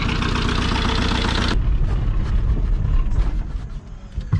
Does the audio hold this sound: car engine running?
yes